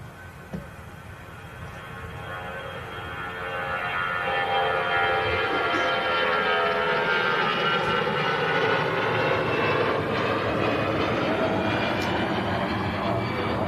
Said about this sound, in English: tracking that Star Alliance aircraft out